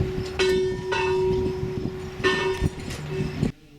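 Chimes of the tower at the Flight 93 National Memorial in Shanksville ring out in a few spaced, resonant strikes, each tone hanging and overlapping the next against light outdoor background noise, then cutting off abruptly.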